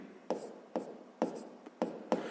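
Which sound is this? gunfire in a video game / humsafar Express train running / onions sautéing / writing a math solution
writing a math solution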